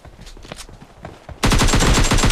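Loud, dense automatic gunfire bursts out suddenly in PUBG Mobile Lite after a quieter stretch of faint movement and scattered sounds, rapid shots hammering on steadily to the end.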